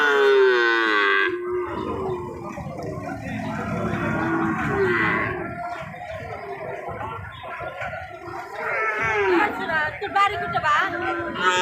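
Cattle low loudly at a busy livestock market, one long drawn-out moo at the start followed by further bellows, while people chatter and talk throughout.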